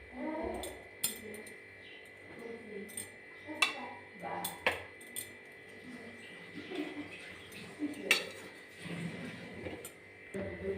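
Boiled potatoes are lifted out of a pressure cooker, cooked without water, with scattered light metallic clinks and taps of a utensil against the pot, close by and irregular, with soft background sounds between.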